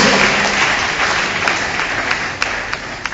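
Church congregation applauding together, a steady wash of dense clapping that holds for the whole stretch and fades slightly toward the end, with a few sharper claps standing out.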